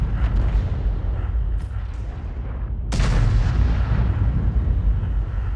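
In the World of Tanks video game, an artillery shell lands with a heavy, rumbling boom partway through, over a dense, continuous battle din.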